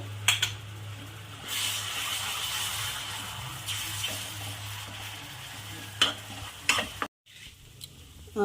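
Tomato paste sizzles and crackles steadily in hot oil in a pan while dum aloo is cooked, with a spoon stirring and scraping now and then, a few sharper clinks near the end, then a brief pause.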